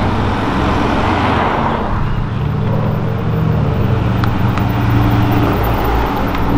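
Ferrari sports car engine roaring loudly and close, a dense continuous growl that holds strong throughout with no talking over it.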